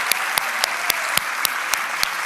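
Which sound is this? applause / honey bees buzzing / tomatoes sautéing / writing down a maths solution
applause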